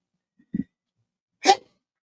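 A single sharp sneeze bursts out after a short intake of breath, close and loud in an otherwise quiet room.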